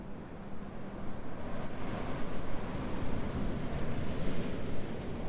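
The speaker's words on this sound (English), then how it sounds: "a blustery wind picks up" Blustery winter wind rushes across a coast where ocean waves break in a steady, continuous roar. The scene is moderately loud, with no voices.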